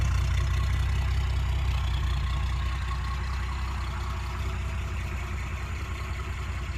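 Vintage Wolseley car engine idling at a steady, even rumble, close and continuous with no talking.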